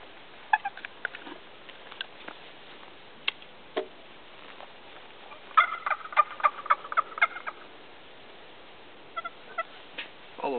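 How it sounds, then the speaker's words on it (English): Wild turkey hens in a horse pasture give faint, distant clucks and yelps, with a short burst of rapid calls in the middle, heard over quiet outdoor background. "bunch of hens back there."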